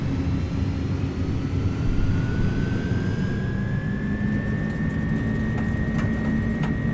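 Jet engines of an iniBuilds A300 airliner in MSFS2024 spool up to takeoff power, a loud steady roar under a whine that rises in pitch and holds while the aircraft rolls down the runway.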